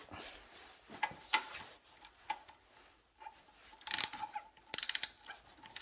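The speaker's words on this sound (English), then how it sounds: "first step is removing the prior caliper" Tools and metal parts rattle and click while the old brake caliper comes off a 1987 Harley-Davidson FXR, a series of faint ratcheting clicks and sharp metallic clinks close by, with no talking.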